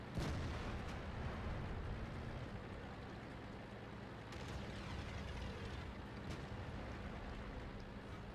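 Tank cannon blind shot in World of Tanks, a deep booming blast with rumbling low-end and a noisy, sustained roar over constant engine-like background, with a couple of fainter crack transients later.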